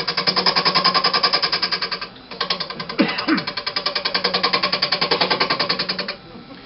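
A lathe spins with an off-center turning jig mounted, producing a fast, rhythmic mechanical chatter and thumping pulse, loud and close, with a brief dip partway through before the steady beat resumes and cuts off.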